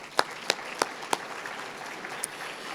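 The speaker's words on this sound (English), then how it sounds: "so give yourself an applause for that." Conference audience at an agent summit applauds, a dense wash of clapping with a few sharp, distinct claps standing out near the start before it settles into steady applause.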